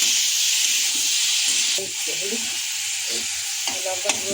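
White potato curry with black cumin and no turmeric sizzles steadily in a hot pan, with a continuous frying hiss and occasional stirring noises.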